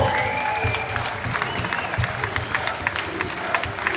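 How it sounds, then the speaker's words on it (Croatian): Sustained applause from an audience at a welcome-home event, dense and steady throughout with occasional crowd voices mixed in. "Dajte još jedan veliki aplauz"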